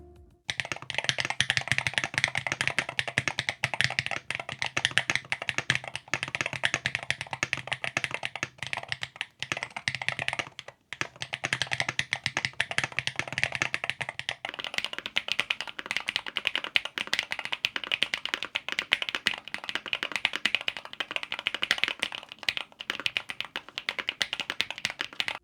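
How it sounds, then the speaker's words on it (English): Continuous rapid typing on a Chilkey Slice 75HE keyboard fitted with WS Flux switches, a close, dense clatter of key presses that pauses briefly once before resuming at a steady pace. "Let's do a quick sound test."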